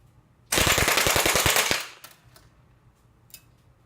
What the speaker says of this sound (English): let me finish the magazine with a couple full auto on the right side right there